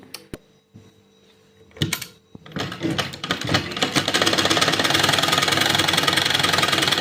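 A sewing machine stitches the sleeves onto a child's shirt, starting with a few scattered clicks and knocks, then settling into a loud, continuous mechanical whirr that runs steadily to the end.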